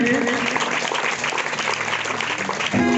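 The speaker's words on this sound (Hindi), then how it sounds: "तांको हम बहुत जोरदार करताल रे हमें वेलकम करमा" Worship congregation at a church meeting clapping in welcome, a dense steady patter of hands filling the room, with voices and some tonal sound mixed in throughout.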